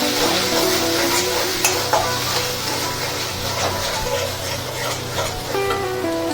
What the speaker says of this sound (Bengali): আর স্বাদ মতো চিনি দিয়ে এগুলোকে আমি আবার নাড়িয়ে নেব।